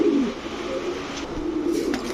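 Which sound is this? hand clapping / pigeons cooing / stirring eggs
pigeons cooing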